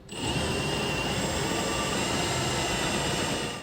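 A drill run at low RPM under firm pressure cuts through the frame of a 1993 Dodge truck, producing a loud, continuous grinding whine that holds steady from start to finish with no speech.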